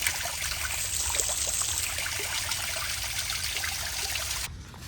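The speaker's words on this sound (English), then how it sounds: "I think a pipe definitely burst." Water trickles and hisses steadily from a burst household pipe, a close, continuous, fairly loud rushing that drops away abruptly near the end, with no voices.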